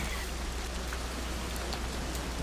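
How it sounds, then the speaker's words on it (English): Steady, dense rain hiss from a game level's storm weather system, continuous and even throughout with no voices, a fairly loud wash of falling drops. "So we've got pretty good thunder, pretty good rain."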